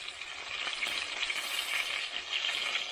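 Chicken fries in hot sunflower oil in a small cooker, giving a continuous dense hiss and crackle of bubbling fat, close and steady throughout with small surges.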